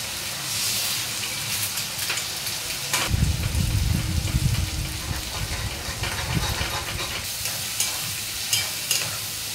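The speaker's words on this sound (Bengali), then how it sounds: "এই যে 3টে ডিম ভেজে নেবো শুধু নুন দিয়ে" Three eggs seasoned only with salt fry in a pan, a steady sizzle joined by a loud burst of stirring and scraping midway, then continued crackling alone.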